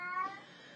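A housecat lets out a short, quiet meow near the microphone, a single brief cry that fades quickly.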